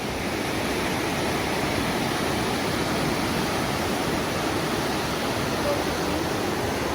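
Flowing water near a salmon ladder in Ketchikan, Alaska gives a constant broadband rush, steady and moderately loud throughout, like a stream or small waterfall close by.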